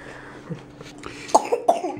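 Two or three sharp, close coughs burst out near the end, following a stretch of quieter low sounds.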